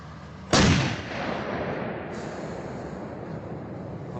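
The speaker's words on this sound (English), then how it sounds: "we saw more Ukrainian but Czech-provided Susanas firing into the distance" A single loud boom from a Slovak Zuzana self-propelled howitzer firing, a sharp blast followed by a long rolling echo that fades slowly across open country.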